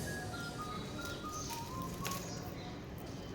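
Sparrows chirp while pecking at the leaves of a garden plant, giving short, high, thin calls that come and go over a steady outdoor background hiss.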